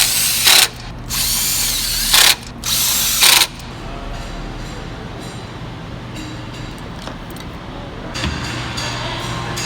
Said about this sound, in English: Just a couple ugga-duggas with the gun on it.